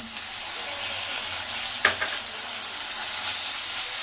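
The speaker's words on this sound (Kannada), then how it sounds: "ಇದನ್ನು ಅಷ್ಟೇ ಒಂದು ನಿಮಿಷ ಈ ರೀತಿ ನೋಡಿ ಫ್ರೈ ಮಾಡ್ಕೊಳ್ತೀನಿ" Tomatoes frying in a pan for pasta, giving a loud, steady, close sizzle and hiss with a single spoon knock or stir near the middle.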